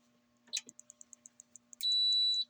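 A quick series of faint, rapid electronic ticks from a modified 12-volt car adapter leads into one sustained high-pitched beep, clear and close.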